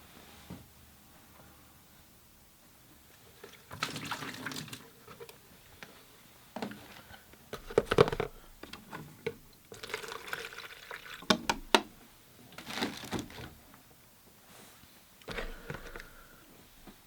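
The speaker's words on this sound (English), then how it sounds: "I'm going to change my water." Water being changed for watercolor painting, with a brush swished and tapped in a water container amid splashes, pours and clinks of handling, in bursts over about seventeen seconds at moderate loudness.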